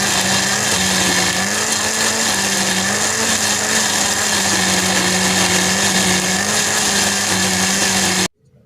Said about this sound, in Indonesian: aku pakai blender aja biar lebih praktis dan gampang ya